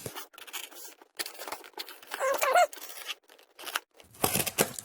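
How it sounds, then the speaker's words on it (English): A CH knife slicing through packing tape on a shipping package, close-up with short scraping strokes and small rustles, quiet and intermittent with brief gaps. "I'm using this CH knife to cut this tape."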